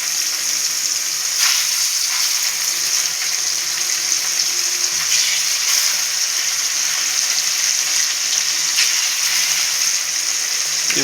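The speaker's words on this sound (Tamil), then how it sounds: "இவங்க நல்லா பொரிஞ்சு வரட்டும்." Fish shallow-frying in hot oil, a steady dense sizzle with crackling bursts that stays loud and even throughout, with no voices.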